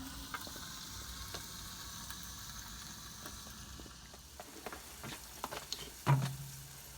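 Pieces of roast beef browning in a Pit Boss ceramic grill, a soft steady sizzle with faint ticks and a louder clunk near the end.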